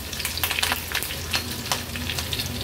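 Mustard seeds, cumin, curry leaves and a ginger-garlic-green chili paste sizzle in hot tempering oil for a Maharashtrian veg dish. The close, continuous frying hiss is studded with quick crackling pops.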